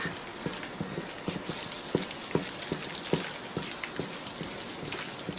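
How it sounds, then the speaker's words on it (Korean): Seasoning being mixed by hand into cucumber and chive kimchi, a soft, wet, squelching and ticking texture with small repeated clicks, close and fairly quiet. "자, 이제 양념을 버무려 보겠습니다."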